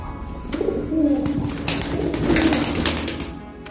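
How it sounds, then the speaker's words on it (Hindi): A Madrasi pigeon gives a few soft, throaty coos close by, low and rolling, with some faint rustling and background noise around it. "ये मद्रासी कबूतर है"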